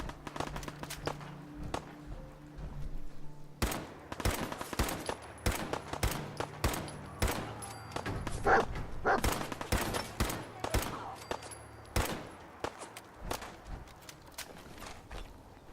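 Rapid gunfire from the video game Fallout 4, with dense bursts of automatic shots and single blasts packed together, loud and sustained against a background game hum, joined by occasional footstep-like clatter.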